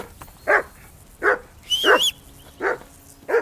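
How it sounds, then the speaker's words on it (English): A dog barks in Kingdom Come Deliverance II, giving five evenly spaced, moderately loud barks with faint game ambience between them and no talk. "That barking's driving me nuts."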